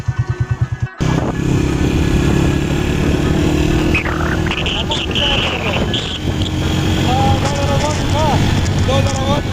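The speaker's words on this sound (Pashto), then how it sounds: "موټرسایکل را سره دی" A motorcycle engine runs loudly and steadily up close, with a rough, droning rumble and wind buffeting, plus brief voices over it.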